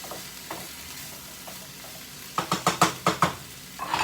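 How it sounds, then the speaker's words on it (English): Potatoes fry in a pan with a soft, steady sizzle as a utensil stirs them, giving a quick run of scraping knocks near the end, with no talking. "I always like to stir mine, but if you stir it too much, then the potatoes aren't gonna cook"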